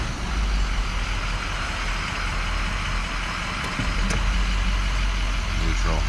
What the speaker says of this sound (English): I got it in 4 low. Starting gear, here we go